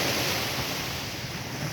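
Sea waves wash in a continuous, fairly loud roar along a polluted shoreline, with wind rumble pressing on the microphone and no voices over the brief stretch.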